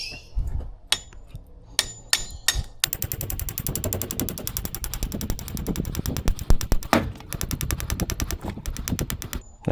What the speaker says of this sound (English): All right, so let's start hammering.